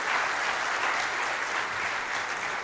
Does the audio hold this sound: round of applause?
yes